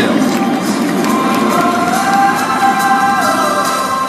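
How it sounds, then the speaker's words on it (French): Spectators at the Coulommiers air show, watching a Patrouille de France jet formation pass, clap and cheer as a loud, close crowd, with scattered shouts and faint whistling tones running over the steady roar. "on les applaudit, on lève les bras"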